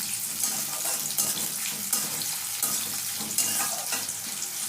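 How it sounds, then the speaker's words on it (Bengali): Chopped onion and green chillies fry in hot oil with a bright, steady hiss and crackle, close and continuous, with faint stirring scrapes now and then. "কাঁচা লঙ্কা আর পেঁয়াজ কুচিয়ে রেখেছিলাম সেটা দিয়ে দিচ্ছি ভালো করে লাল করে ভেজে নেব পেঁয়াজ আর লঙ্কাটা"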